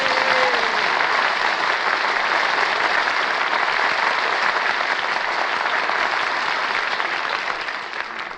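Studio audience at the 1949 Kraft Music Hall radio broadcast breaks into sustained, dense applause, loud and even throughout, tapering slightly only at the very end.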